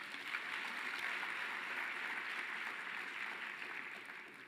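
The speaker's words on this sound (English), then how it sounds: "Can we please give him a formal round of applause now?" Faint, steady round of applause from an audience at an education sector conference, a continuous wash of clapping lasting a few seconds with no talk.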